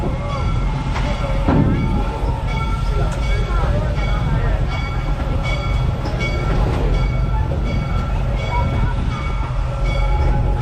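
Steam train ride at Busch Gardens Tampa, Florida, rolling steadily with a continuous loud rumble and rattling of wagons throughout, with a voice announcing over the noise.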